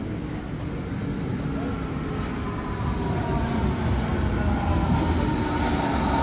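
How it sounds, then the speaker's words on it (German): A Berlin S-Bahn Ringbahn train, line S42, pulls into a station platform with a steady loud rumble and rail noise throughout, with faint platform sounds in the background. "Eingefahrener Zug auf Gleis 2, S42, Ringbahn über Neukölln, Ostkreuz, Gesundbrunnen."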